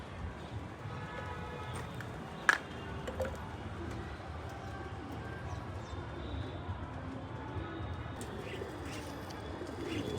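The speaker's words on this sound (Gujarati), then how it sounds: "ઘણા બધા જો કબૂતર ખાય છે અત્યારે દાળિયા ખાઈને" Pigeons feeding on roasted chickpeas coo softly and continuously in an outdoor setting. One sharp click stands out near the middle, with scattered faint chirps over steady background noise.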